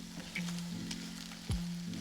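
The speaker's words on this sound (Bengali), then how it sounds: "এটাকে সুন্দর করে আগে আমি ভেজে নিচ্ছি" Shredded egg sizzling and frying in a pan for fried rice, a steady close crackle with faint utensil sounds.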